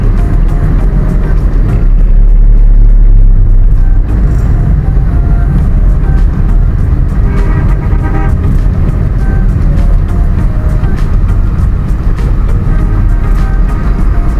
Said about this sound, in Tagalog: pa-traffic talaga dahil highway ito, maraming sasakyan